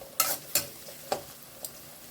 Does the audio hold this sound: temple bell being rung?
no